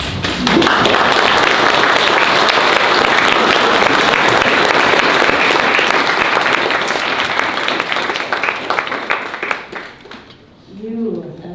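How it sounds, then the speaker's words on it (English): Loud, sustained applause from guests at a wedding ceremony rolls on for several seconds before tapering off, and then a voice resumes speaking. "I think you deserve a little round of applause."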